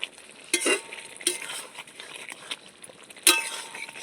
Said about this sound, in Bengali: এবার দিয়ে দিচ্ছি একটু গরম মশলা গুঁড়ো আর দিয়ে দিচ্ছি একটু কুচানো ধনে পাতা দিয়ে এগুলো দিয়ে নাড়াচাড়া করে নিলেই কিন্তু রেডি হয়ে যাবে